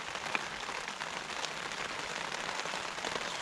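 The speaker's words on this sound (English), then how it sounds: "Listen to this beautiful old rain." Rain falling at a campsite, a steady, dense patter of drops on a surface that continues without a break and with no voices.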